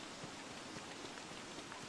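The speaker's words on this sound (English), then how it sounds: "It's raining." Steady rain falls in the video game Don't Starve, a soft, even hiss of drops spread across the whole scene at low, constant loudness with no voices.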